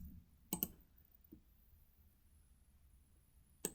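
Computer mouse clicks and an Enter key press during CAD drafting, with a sharp double click, a faint tap, then another crisp click in a quiet room.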